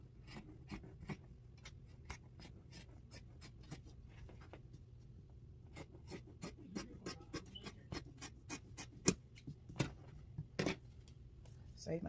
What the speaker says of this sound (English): All right, continue to cut out the pattern.